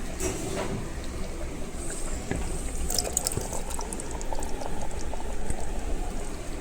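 Drumsticks are added to mutton masala simmering in a pot, with a steady close bubbling and burbling of thick liquid and occasional light clinks, continuous throughout.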